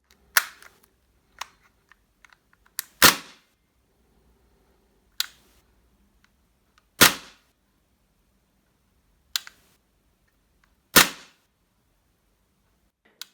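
Tokyo Marui USP gas blowback airsoft pistol fired in single sharp cracks, about eight shots spaced irregularly over the stretch, several louder than others, with near silence between.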